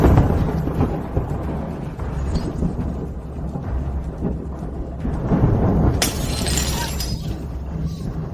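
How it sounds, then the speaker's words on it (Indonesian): Thunder rumbles indoors over a steady rain-like wash, with a sharp burst of breaking glass around six seconds in as a vase shatters; the whole scene stays loud and dense from start to finish. "Itu cuma petir dan vas yang pecah."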